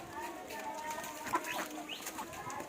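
A tethered duck near a home gives a few short, faint quacks and squawks scattered through a few seconds, softly heard among light background noise.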